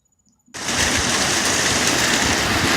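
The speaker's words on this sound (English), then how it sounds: "we are getting another downpour" Torrential rain downpour bursts in abruptly after a near-silent start, a loud dense roar of water drumming on surfaces that holds steady to the end, with no voices.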